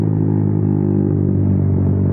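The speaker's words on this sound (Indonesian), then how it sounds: "tapi suara dari knalpot 2RSK2 ini udah mantep, budet di telinga, bersahabat enggak" A Honda CB motorcycle with a standard engine and a 2RSK2 aftermarket exhaust runs close by with a steady, deep, throbbing idle-like rev, loud and even throughout.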